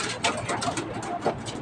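Barata-line racing pigeons cooing softly in a loft, a few low throaty coos close by over faint background noise.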